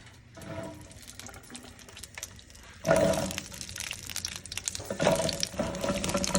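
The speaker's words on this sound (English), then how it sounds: "I turn my fire on high, start placing these babies inside." Italian peppers go into olive oil on a stove turned to high heat. After a quiet start, a sudden loud sizzle erupts, then a second crackling burst, with the spattering fry continuing close and steady.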